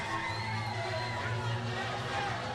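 A wrestling crowd roars and cheers after a tag-team win at a live indie show, a steady distant wash of shouts and whoops with no single voice standing out.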